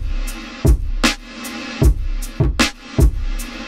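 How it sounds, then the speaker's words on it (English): Drum pattern processed by the KSHMR Reverb plugin's Hall V2 algorithm, a bigger, brighter and cleaner modern hall: kicks and crisp snares ring out into an airy tail, steady rhythm, no voices. "Hall V2 is bigger, it's brighter than Hall V1."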